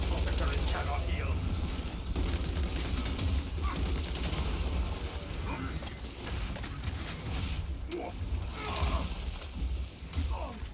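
Sustained gunfire volleys in a Warhammer video game, a dense roar of rapid shots and mechanical clatter that barely lets up, loud and close, with faint voices underneath.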